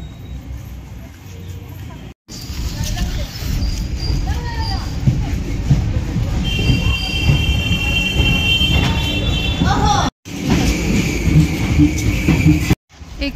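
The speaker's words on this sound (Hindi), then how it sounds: "यही वो ट्रेन है जिससे मैं आई हूँ और ये है विजयवासन रेलवे स्टेशन" Train noise at a busy railway station: a continuous low rumble with occasional squeals and high tones, close and fairly loud, while someone talks over it.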